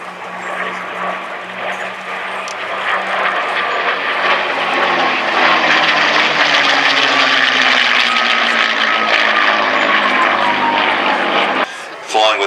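A P-51 Mustang propeller fighter flies past at the Flying Legends 2018 air show at Duxford, its loud engine drone holding steady and building toward a close pass before cutting off abruptly near the end.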